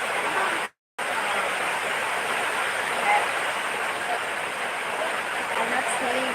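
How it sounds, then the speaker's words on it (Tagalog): Rain falls steadily in the Philippines, a continuous, even wash of hiss with a brief gap of silence near the start, otherwise unbroken and moderately loud. "Ala, ulan na."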